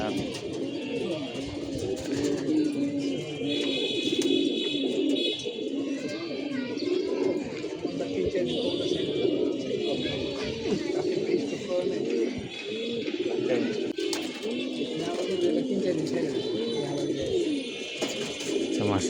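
A flock of pigeons at a rooftop loft coo continuously in a dense, layered murmur close by while feeding, with someone talking over them throughout.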